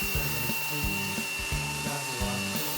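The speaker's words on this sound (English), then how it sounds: "I started out sanding with a fairly coarse belt, removing hardened glue and pencil marks" A belt sander with a coarse belt runs continuously against a wooden table top, removing hardened glue, a steady abrasive whir with a rhythmic rubbing pulse as the tool is pushed back and forth.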